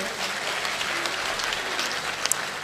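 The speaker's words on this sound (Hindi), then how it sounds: "एक बार आप ताली बजा करके मुझे माहौल दें।" A crowd at a Hindi-Urdu poetry recital claps steadily, a dense, fairly loud wash of applause with a few sharper individual claps near the end.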